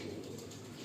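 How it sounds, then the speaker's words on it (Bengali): Andhra pigeons in a loft give a soft, low coo lasting under a second over a faint, steady background hum. "হলুদ চোখের পায়রা।"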